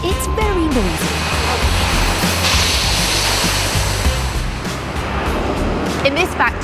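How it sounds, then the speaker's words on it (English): Machines running in a dried-pasta factory make a loud, constant broadband roar of industrial noise that fills the space without pause, with a few faint higher tones and clatters on top. "This is a pasta factory, and all these machines mean it's very noisy."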